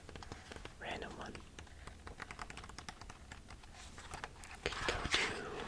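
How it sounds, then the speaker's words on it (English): Pages of a book about vegetables are shuffled and flipped up close, with soft rustles, taps and papery brushes in an uneven patter, with a quiet whispering voice in places. "I'm just going to shuffle through some of the pages"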